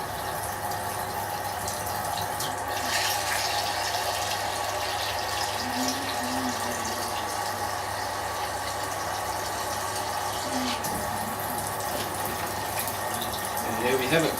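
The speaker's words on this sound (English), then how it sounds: "And I think I'll put one more jug of cold water in there" A jug of cold water pours into a homebrew kit beer fermenter in a steady, soft stream of splashing and gurgling, with a faint voice at moments.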